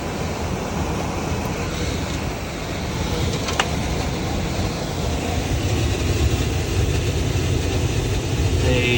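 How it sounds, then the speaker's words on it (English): A 2019 Goodman HVAC blower runs steadily as a broad, even rush of moving air with a low rumble, holding a constant level throughout. "There he goes. There's our blower."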